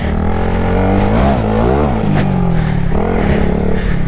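Small motorcycle engine revving hard as the rider hits a little jump trying for a wheelie, the pitch rising and falling in several surges with wind noise throughout, loud and close.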